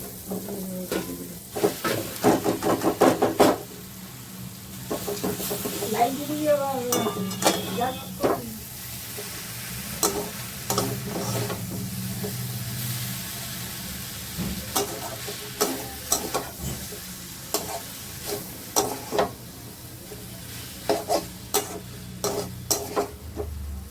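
Spices frying and being stirred in a pan while making Maggi noodles, a steady close sizzle with repeated scraping stirs and a few clinks, and a voice speaking over it at times.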